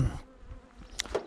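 Honeybees buzz in a brief burst, a faint, close hum with a few sharper wing flickers near the end.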